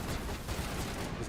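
Gunfire in Mass Effect Legendary Edition comes as a dense, rapid fusillade of shots blending into a continuous loud crackle, with no talking.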